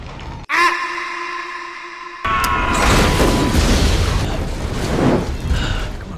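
A sudden blast blowing up vampires in Stake Land, a sharp burst followed by a sustained roaring rumble of fire and debris that stays loud for several seconds.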